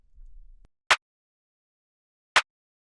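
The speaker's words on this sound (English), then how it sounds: "Here's the rim." Two crisp, dry rim shot hits from an FL Studio hip-hop beat sound in isolation, short bright clicks spaced roughly a second and a half apart with silence between.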